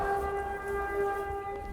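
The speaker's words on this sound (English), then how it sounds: "Air raid sirens, even in the relatively calm west of the country, shatter the quiet." Air raid siren wailing across a town in western Ukraine during wartime, a sustained droning multi-tone wail heard from a distance over low background rumble.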